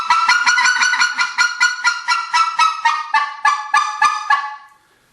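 A Riceland Custom Calls goose call blown to imitate specklebelly goose clucking gives loud, rapid honking notes in an even rhythm, about a dozen clucks that gradually slow before cutting off.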